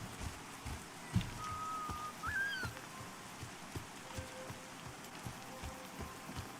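Rain falls steadily in a video game, a soft, faint patter of drops on surfaces running without break, with a brief high whistling chirp over it near the middle.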